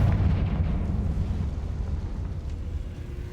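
Confringo blasting spell going off in the Hogwarts Legacy video game: a loud, deep rumbling explosion that booms at the start and keeps roaring steadily without fading for several seconds, with no voices over it.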